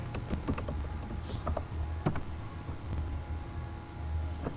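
Typing on a computer keyboard while writing text in Microsoft Word 2007, heard as a steady run of close, crisp key clicks with uneven rhythm over a low background hum, with no talking.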